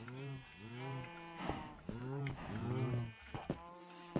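Cows moo over and over in a Minecraft farm, a cluster of drawn-out overlapping lowing calls mixed with occasional sheep-like bleats and small clicks, close and steady.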